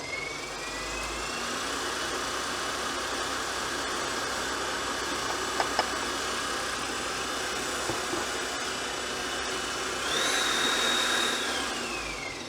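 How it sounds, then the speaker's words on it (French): An electric mixer whisks egg whites while sugar is added gradually for French meringue, a steady motor whine that runs throughout and shifts slightly in pitch near the end. "Mais ce n'est pas la peine pour vous d'arrêter le batteur."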